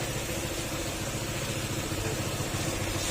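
A Honda PCX160 scooter engine runs at idle after an ECU repair, giving a steady close mechanical hum with a faint rhythmic pulse that stays even the whole time and has no talk over it.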